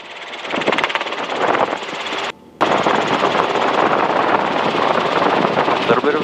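Robinson R22 helicopter engine and rotor roar loudly and steadily at full collective during takeoff, dropping out briefly partway through before resuming, with voices faintly present over the noise.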